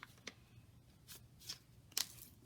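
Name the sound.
folding book pages for a votive holder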